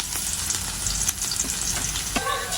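Garlic sizzles in hot cooking oil at the start of a pot of lechon paksiw, a steady close crackle with small spits and the odd clink of a utensil.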